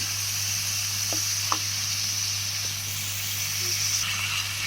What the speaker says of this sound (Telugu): సో ఇగురు ఇలాగా వేగుతుందండి.